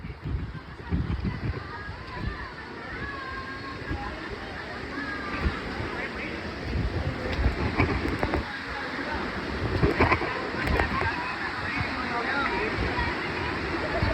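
A waterfall on a trek, its constant rushing roar with splashing water close by, while people talk over it throughout.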